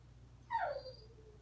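A dog gives one high, falling whimpering cry, faint and a little distant, over a low steady background hum.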